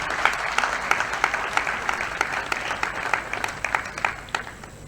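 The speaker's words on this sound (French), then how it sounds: "je demande à tout le monde, d'applaudir l'Université de Lubumbashi pour cela." Audience at a university conference opening ceremony in Lubumbashi applauding, a steady crowd of clapping with distinct hand claps standing out in a loose rhythm throughout.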